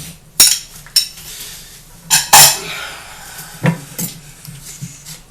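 White mushrooms tumble into a cooking pan for stuffed chicken, making several sharp clinks and clatters of metal and utensils against the pan, with a brief sizzle and scraping between the louder hits.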